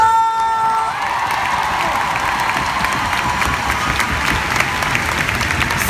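A studio audience at the French dance show Danse avec les Stars applauds and cheers loudly and steadily for the dancers, with a few whoops rising from the crowd.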